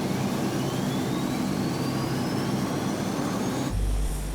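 Steady, loud roar of Lockheed Electra airplane engines as the plane departs, a rising whine climbing through the drone before it cuts to a quieter low rumble near the end.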